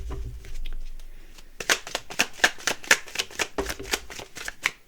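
Tarot cards being shuffled by hand, a run of quick crisp riffling bursts close up, alone without talk.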